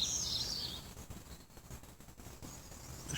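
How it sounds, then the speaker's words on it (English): Birds chirp outdoors on a hot summer day, a few thin, high calls near the start and end over soft, steady background noise, with no talk. "Just listen to the peaceful sound of those birds."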